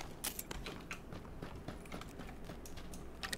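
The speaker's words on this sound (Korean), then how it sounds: "발소리 나는데?" Quick footsteps in the battle-royale shooter PUBG, a faint, irregular series of soft thuds and scuffs that sounds fairly close, with no voices over them.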